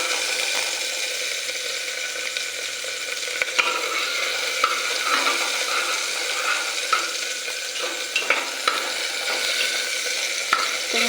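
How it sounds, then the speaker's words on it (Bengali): Cumin and tomato frying in a pan for vegetarian pulao, a steady close sizzle with occasional sharp clicks of stirring, continuous throughout without talk. "শুধু জিরা আর টমেটো দিয়ে করছি"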